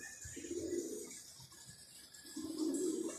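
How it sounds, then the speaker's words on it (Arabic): A large flock of over a hundred pigeons, including homing and other fancy breeds, coos in soft low bursts, one near the start and another near the end, over a steady airy background hum. "هاي اكثر من 120 طير"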